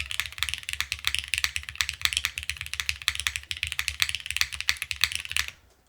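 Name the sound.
typing on a plateless Neo65 mechanical keyboard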